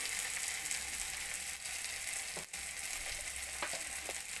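Ground cumin, coriander, turmeric and chilli powder go into ginger and garlic frying in hot oil for ghugni, giving a steady, loud, close sizzle with a few soft stirring knocks and no talking.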